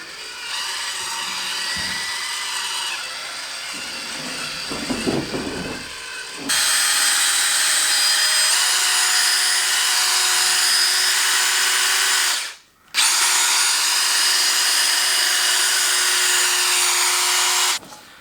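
A power drill whirs loudly in long continuous runs, briefly stopping and restarting, with a high buzzing tone and a short quieter stretch early on.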